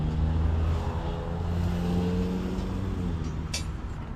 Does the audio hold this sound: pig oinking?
no